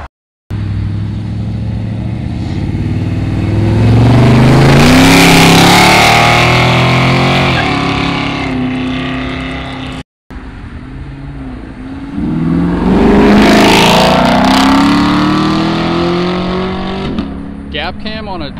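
A very loud car roars past at a cars and coffee meet, engine climbing and fading in two passes, with people talking over it.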